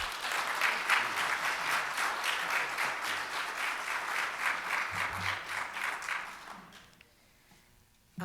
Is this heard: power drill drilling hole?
no